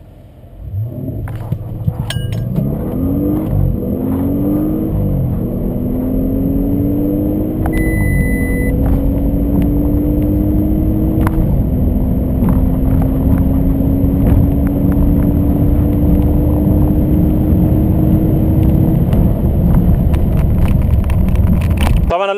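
A limited-edition Audi RS8 accelerates hard, its engine note rising through several gears in stepped climbs before settling into a long, steady high pull; the sound is loud and close, with a brief beep early on.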